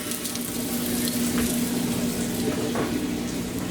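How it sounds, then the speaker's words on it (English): Vermont maple sausage frying in a pan, a steady close sizzle and hiss with a faint background hum, no talking. "Sausage is cooking right now"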